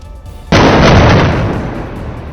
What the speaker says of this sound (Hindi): शहर में एक के बाद एक कई धमाके हो रहे हैं